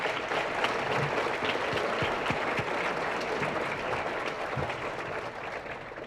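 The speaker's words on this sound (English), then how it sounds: "if we could just give Mr. Dubuque one more round of applause" Audience at a high school sports banquet applauds an athletic director, a steady, dense round of clapping from a crowd that fills the room for about six seconds without pause.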